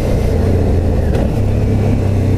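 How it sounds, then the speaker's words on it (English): Car engine heard from inside the vehicle on a road trip in New Zealand, a loud, steady close drone that shifts in pitch briefly as it revs during a downshift. "that was a perfect downshift"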